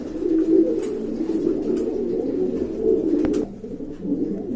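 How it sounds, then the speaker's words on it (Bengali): Cooing of a pair of large jet-black pigeons, a steady low warbling murmur that carries on without pause, close by and fairly loud, with a brief dip in level near the end. "খুবই সুন্দর বিগ সাইজের কবুতর সম্পূর্ণ রানিং জেড ব্ল্যাক কালার"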